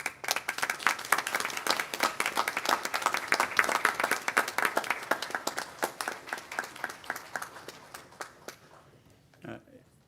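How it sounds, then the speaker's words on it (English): Applause rises from the audience at a 2021 graduation ceremony, many hands clapping steadily and loudly before thinning out and fading to a few scattered claps near the end. "I can say it was interrupted by applause"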